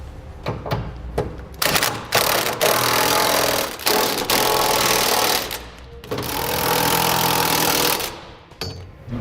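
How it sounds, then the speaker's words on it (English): A 3/4 inch socket on a power tool tightens nuts on the carriage bolts joining fifth wheel mounting rails to frame brackets on a 2016 Ram 2500. Loud, close whirring and rattling bursts repeat with short pauses between them. "Now we'll take a 3/4 inch socket and begin tightening up the nuts on the carriage bolts that connect the mounting rails to our frame brackets."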